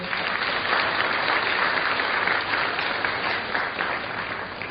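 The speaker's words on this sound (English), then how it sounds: "Let us give Soumya Chandra a huge round of applause." A hall full of people at a school annual concert and prize distribution ceremony claps steadily, a dense, even wash of applause that holds for several seconds without cheering.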